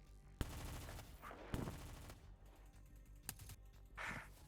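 Gunfire in a Mayday roleplay video game firefight, several sharp bursts and single shots cracking out at intervals amid quieter clatter, fairly faint overall.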